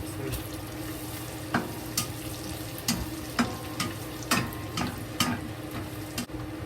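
Chopped ginger stir-fried with garlic scapes and bacon in a hot pan, a steady sizzle with irregular scraping strokes of a spatula against the pan, close and fairly quiet, with no voices.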